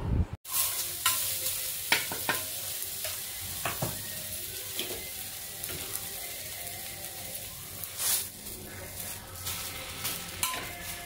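Dosa batter sizzles steadily on a hot pan as another dosa is poured, with soft scraping and clinks of a utensil against the pan, close and continuous.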